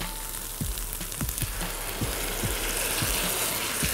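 Tomatoes hitting a hot pan for a shrimp pasta with tomato sauce give a steady, close frying sizzle, broken by a few sharp low knocks, likely stirring or the pan being moved.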